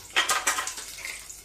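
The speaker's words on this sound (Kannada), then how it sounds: "ಈಗ ಒಗ್ಗರಣೆ ಹಾಕ್ಕೊಡೋಣ" Tempering (oggarane) tipped into hot oil in a home kitchen while cooking lunch of masoppu, with a run of bright clattering hisses and metallic scrapes over the first second that fade into a softer crackling sizzle.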